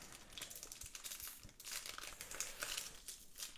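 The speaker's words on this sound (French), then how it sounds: "Alors les boosters sont extrêmement durs à ouvrir" Crinkling and crumpling of a foil wrapper as a Dragon Ball Super card booster pack is worked open, quiet and close with irregular bursts over a few seconds and no speech.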